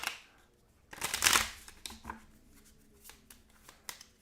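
A deck of Marvel Champions game cards riffle-shuffled up close, one loud burst of fluttering cards followed by a few softer taps and shuffles as the deck is squared, with no speech.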